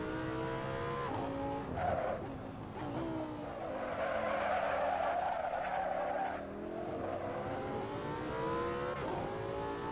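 Simulated race car in Assetto Corsa cornering through Laguna Seca, its engine note rising and falling with gear changes as the tyres squeal and skid through the bends, loud and continuous for the whole stretch.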